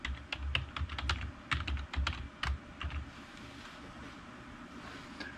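Keys clatter as a password is typed on a computer keyboard, a close, quiet run of about a dozen quick clicks that then stops, leaving a low hum.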